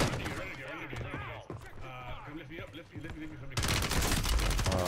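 Gunfire in the Warzone Resurgence shooter, bursts of shots crackling under players' voice chat, then a louder, denser volley of rapid fire in the last second.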